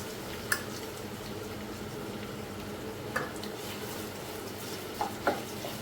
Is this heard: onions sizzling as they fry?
yes